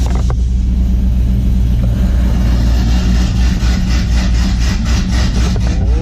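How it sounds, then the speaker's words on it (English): 1993 OBS truck with an LS engine swap and electric exhaust cutouts open, giving a loud, deep, raspy exhaust rumble that builds into a rev toward the end, with no talking. "see a little rev with the cutouts open"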